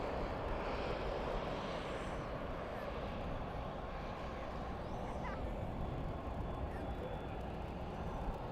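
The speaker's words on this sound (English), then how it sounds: "Small plane." Small propeller plane coming in to land at Dallas/Fort Worth airport at night, its engine a continuous distant drone, fairly faint and even throughout, with a possible murmur of voices underneath.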